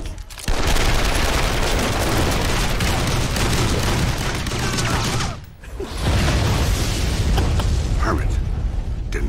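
Gunfire in an 1980s-style action music video, dense and loud, sustained bursts filling the whole stretch apart from one brief dip near the middle, mixed with music.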